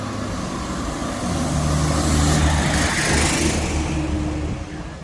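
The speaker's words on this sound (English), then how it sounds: "Here comes a bus full of rafting folks." A bus carrying rafting passengers drives past on a hot day near a trail in the Smokies, its engine rumble swelling as it nears and fading as it pulls away, steady and fairly close.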